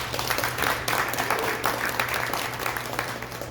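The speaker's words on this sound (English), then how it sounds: "how about a round of applause for those folks?" A breakfast crowd at a chamber of commerce event applauds the Special Olympics and the U.S. Coast Guard, a soft, dense patter of many hands that fills the room at a steady level.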